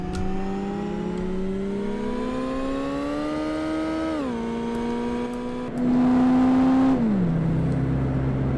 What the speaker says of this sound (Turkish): Gaza abandığınızda patinaj falan filan yapıyor.